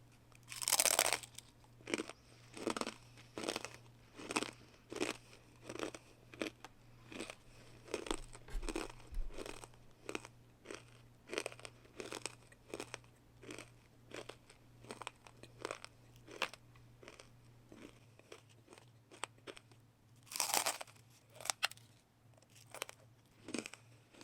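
Crisp baked potato snacks are crunched in steady, close bites, a long run of sharp crackling chews with brief pauses between them.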